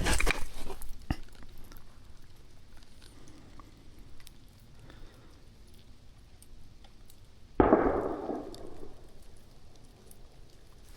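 A single rifle shot during an Idaho elk hunt, one sharp report with a fading tail, fairly loud against quiet outdoor background noise, with a faint earlier crack at the start.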